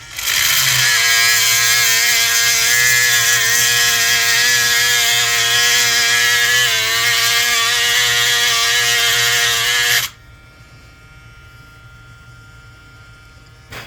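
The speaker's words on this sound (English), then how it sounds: "we got my drill in there. Go ahead and bust these rivets open" Power drill running continuously at high, loud speed for about ten seconds while drilling out the heads of rivets, then cutting off abruptly into near silence.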